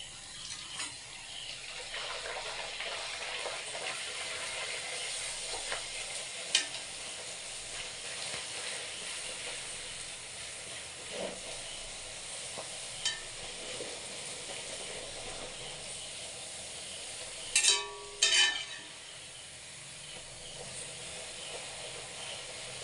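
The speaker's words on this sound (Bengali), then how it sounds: "দেখুন, এবার সব লুচিগুলা একটা একটা করে ভেজে নেব।" Luchi frying in hot oil, a quiet steady sizzle and hiss running throughout, with a few brief louder bubbling bursts near the end and no talk.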